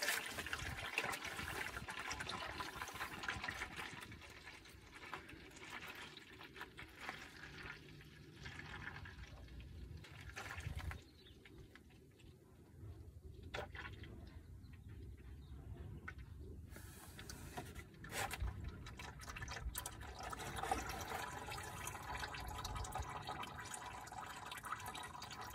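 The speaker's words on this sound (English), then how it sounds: "So we just have to let it all drain out now" Engine oil running out of the drain on a 2020 Subaru Outback, a steady liquid trickle and pour that continues across the whole stretch at moderate level with a few brief drips and handling noises.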